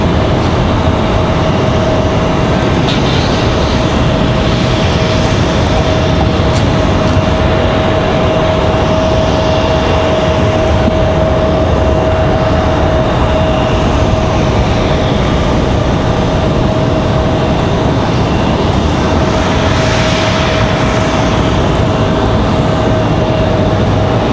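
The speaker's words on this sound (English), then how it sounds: "Southwest departing over there on the other side, just behind us." Southwest airliner departing Raleigh-Durham International Airport and banking left, heard as a steady, loud broadband jet roar with a faint sustained tone, continuous for the whole stretch without talk.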